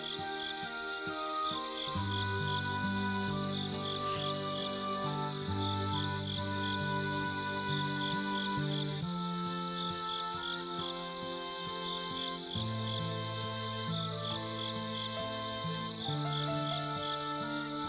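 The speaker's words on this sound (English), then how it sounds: "The quiet cry of the cicadas sounded very comfortable in my ears." Night cicadas in the Higurashi video game give a steady high chirring drone, layered under soft continuous background music throughout.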